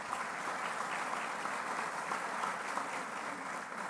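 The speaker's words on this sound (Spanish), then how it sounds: "Un aplauso para Máximo" Steady, dense applause from an audience at a formal ceremony honoring former president Máximo San Román, sustained clapping throughout with no pauses.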